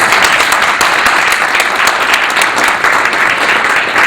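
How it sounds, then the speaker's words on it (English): A Yemeni community audience in New York gives a loud, sustained round of applause, a dense wash of many hands clapping close by, steady throughout with no talk over it. "I want to give a round of applause to all the Yemenis that are here"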